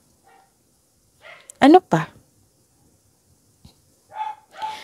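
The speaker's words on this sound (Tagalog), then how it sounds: "Pasensya na po sa ingay, ha. Maingay po yung aso namin." A couple of sharp dog barks close by, followed later by fainter yips, with brief speech in between.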